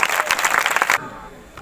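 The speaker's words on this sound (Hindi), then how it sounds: "ताली बजाएंगे जोर से जोर से।" A church congregation at a live healing service claps loudly together, a dense burst of applause that stops sharply after about a second.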